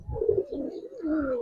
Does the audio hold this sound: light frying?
no